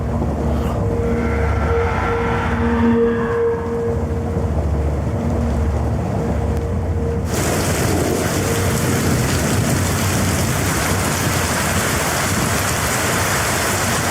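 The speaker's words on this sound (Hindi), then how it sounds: "बारिश बहुत तेज है," Heavy rain roars steadily throughout, with a low rumbling drone underneath; partway through the downpour swells into a brighter, fuller hiss.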